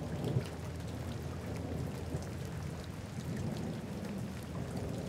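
Torrential rain in a French audio drama, a steady dense roar of downpour with low thunder rumbling beneath, continuous and enveloping.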